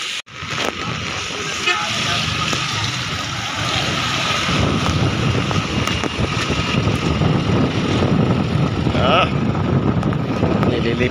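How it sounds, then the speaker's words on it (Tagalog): Strong typhoon wind buffeting the microphone in a tree-lined outdoor area, a steady loud roar with gusty broadband rumble throughout, and someone speaking briefly over it. "Medyo mahangin pala dito mga idol."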